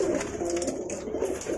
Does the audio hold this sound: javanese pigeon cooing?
yes